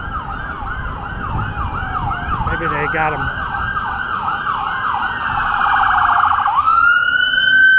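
An ambulance siren wails in rising and falling sweeps on a city street in Washington, D.C., then a police car siren follows close behind it, loud and near over road traffic, with a brief spoken remark in the middle.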